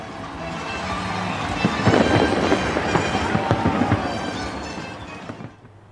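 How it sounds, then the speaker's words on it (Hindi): Fireworks over the Eiffel Tower on France's national day, a dense rolling barrage of booms and crackles mixed with crowd noise, continuous and loud before fading out. "फ्रांस के कौमी दिन पर एफिल टावर में शानदार आतिशबाजी की गई।"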